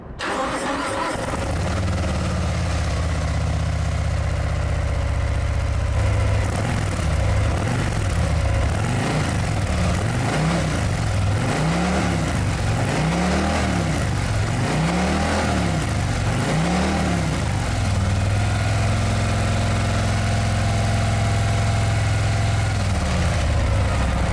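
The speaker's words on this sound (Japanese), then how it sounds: "それではエンジンをかけてみましょう" A 2023 Harley-Davidson Breakout motorcycle engine cranks and fires up, lopes through a few uneven throttle blips, then settles into a loud, steady idle.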